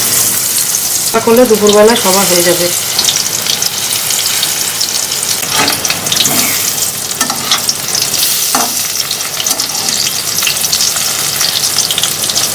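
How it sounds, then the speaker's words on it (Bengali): Fritters (bora) frying in hot oil in a wok, a steady broadband sizzle running throughout, with someone speaking briefly near the start and faint clinks now and then. "চলো সব এক এক করে সব বড়াগুলো ভেজে নিই।"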